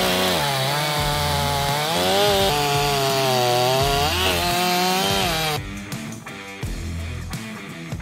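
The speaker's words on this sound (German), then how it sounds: "Mit einer Profisäge legen wir sofort los." A professional chainsaw bites into large wooden log rounds in an Eifel forest for carving, its engine roaring loud and close with rising and falling revs, then shifting to rougher, choppier cutting near the end.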